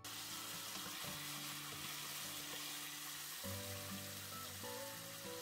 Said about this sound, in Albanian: Fërkojmë në të dy anët nga 3-4 minuta, derisa filetat e pulës të jenë fërguar mirë.